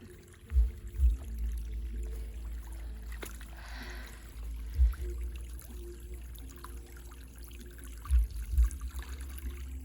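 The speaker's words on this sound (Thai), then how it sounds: "น้ำไหลลิลิลิลิลิลิ" Water trickling and flowing from a small outdoor fish-catching setup, a continuous low gurgle with a few louder splashy bursts, quiet and without voices.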